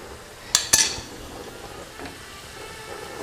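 Onion fries in oil in a pan for Persian halim bademjan, giving a soft, steady sizzle. Two sharp utensil clinks come early on, and the frying carries on alone and fairly quiet.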